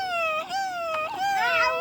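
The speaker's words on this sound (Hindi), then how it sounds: "अपने घर के बाहर तो कोई बच्चा रो रहा है" A baby cries outside a house in a thin, wavering wail that rises and falls, loud and close, alone with no other sounds.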